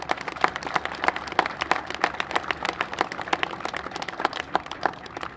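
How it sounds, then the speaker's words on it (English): Applause from a press conference audience of bus service workers, a crowd clapping steadily with dense overlapping claps throughout, moderately loud and without talk. "I want you all to give yourselves a round of applause"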